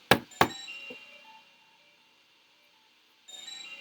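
Two sharp knocks on a door in the Snatcher video game, close and loud, followed by a faint third tap, a lingering chime-like tone, silence, and then game music.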